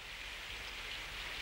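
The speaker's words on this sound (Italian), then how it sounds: "È cattivo tempo e piove." Steady rain falling in bad weather, an even hiss of drops without pause, moderately quiet and alone.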